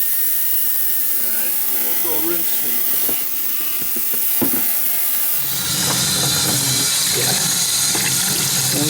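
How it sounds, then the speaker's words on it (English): Hot water runs from a tap into a laundry sink while Seth Thomas mantel clock parts are rinsed, a steady splashing rush with small clinks and knocks, growing louder and fuller partway through. "Rinsing everything under hot water and laundry sink."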